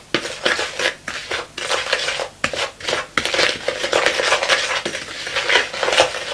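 Desiccated coconut and xylitol being mixed together in a bowl, a steady scraping, rasping stir with irregular bursts of spoon-on-bowl clatter, close and fairly loud.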